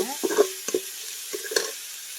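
Chopped tomatoes and onions sautéing in a pan, with a soft sizzle under a few distinct stirring scrapes and clinks of a spoon against the pan, close and moderately quiet.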